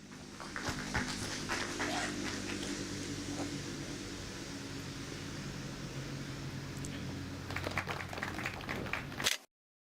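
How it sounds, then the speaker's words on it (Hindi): An audience applauds an elderly farmer being awarded the Kisan Cup on stage at a farmers' quiz event: steady, dense clapping holds for about nine seconds, then cuts off abruptly. "जोरदार तालियां उनके लिए बजाते रहिए।"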